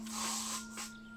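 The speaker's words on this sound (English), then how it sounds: "I will use some hairspray and I will definitely try to not spray it onto my jewelry" Hairspray is sprayed onto hair in short hissing bursts, close and fairly soft, over a faint steady hum.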